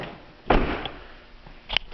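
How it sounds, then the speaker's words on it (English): A Duramax pickup truck door shuts with a solid thud in a workshop, followed by a second sharper knock a moment later. "I'm going to close this door."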